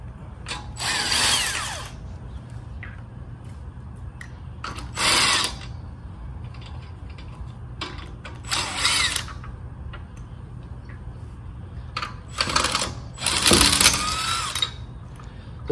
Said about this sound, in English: This impact gun is worth getting out just to save time.